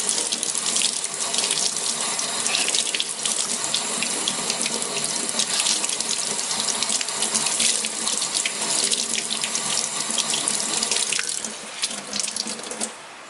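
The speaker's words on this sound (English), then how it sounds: "And then I also rinse it with water." A tap runs steadily and loudly into a sink, water splashing continuously as a makeup sponge is rinsed under the stream, then the flow eases near the end.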